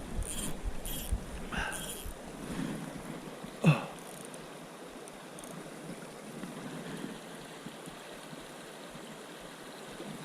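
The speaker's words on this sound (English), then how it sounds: "There's a good cold water creek to filter water in." A small cold-water inlet creek near a mountain lake flows with a steady, soft rushing murmur, faint and continuous, with a brief louder knock partway through.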